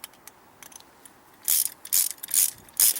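A ratchet wrench clicks rapidly during repair work on a White 26-inch snow blower with an 8.5 HP Tecumseh engine, starting with faint scattered ticks and then giving several loud, close bursts of ratcheting.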